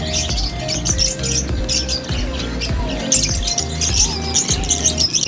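Assorted birds chirping and squawking in a pet bird shop that also sells chicks, pigeons and rabbits, a busy overlapping chorus of tweets and calls at close range with no talk.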